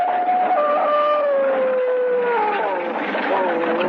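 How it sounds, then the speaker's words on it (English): Dogs howl in long sustained wavering tones, several voices overlapping and sliding in pitch, dense and continuous as part of an old-time radio drama scene. "the devil dogs ran, snarling and howling"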